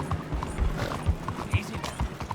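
Horse hooves trotting in Red Dead Redemption 2, a quick regular clip-clop of several steps over ground, close and fairly clear, with a man urging the horse on.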